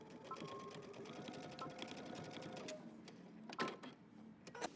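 A sewing machine edge stitching the lining of a denim jacket, a close, rapid mechanical whir with fast regular ticking that runs steadily, then stops with a few clunks and a short final burst.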